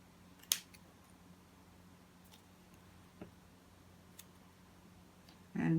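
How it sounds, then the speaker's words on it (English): Scissors snip through a paper card piece, cutting off a handle piece, in one sharp close cut followed by a few faint clicks in a quiet room. "the handle piece, so I'll snip it off there."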